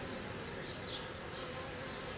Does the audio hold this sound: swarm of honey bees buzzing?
yes